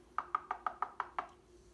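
Seven quick, evenly spaced knocks rap on a door, crisp and close, followed by a short quiet pause.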